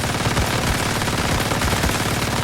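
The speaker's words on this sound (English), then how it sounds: "if I just keep shooting, I'm gonna shoot forever because I'm just gonna keep reloading" Rapid automatic gunfire from the Frost Vortex weapon in the video game Once Human, a continuous dense stream of shots that keeps going without pause, loud and up close.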